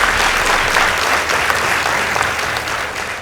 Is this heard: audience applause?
yes